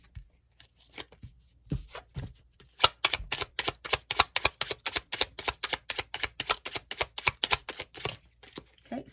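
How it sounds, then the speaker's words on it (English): Oracle cards are shuffled by hand, a few scattered riffles giving way to a fast, steady run of crisp flicking slaps, close and clear, then easing off near the end. "Let's go ahead and pull another oracle card."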